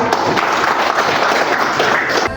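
Students in a geography classroom applaud together, a dense burst of clapping lasting a couple of seconds before cutting off abruptly.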